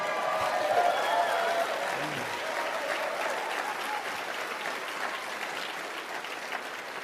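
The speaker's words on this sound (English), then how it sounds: "You ought to give yourselves a round of applause." A crowd at a motivational speech breaks into steady applause, a dense, even wash of clapping that holds at a moderate level throughout without fading away.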